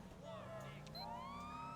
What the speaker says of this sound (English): turn our sirens on, and they should pull over for us